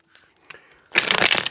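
An oracle card deck is shuffled close up: a brief, crisp burst of riffling and flapping cards follows a moment of near silence.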